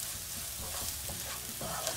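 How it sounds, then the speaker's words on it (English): Onions and spices sauteing in a pan over a very low flame for a bhindi masala, giving a steady soft sizzle with stirring scrapes throughout, close and continuous with no talking. "sauteing them well for about 1 to 2 minutes on very low flame"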